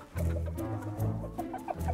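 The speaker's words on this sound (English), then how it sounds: "Time to feed the chickens." Chickens cluck steadily up close, a dense run of short, throaty calls overlapping each other, with the flock busy and fairly loud throughout.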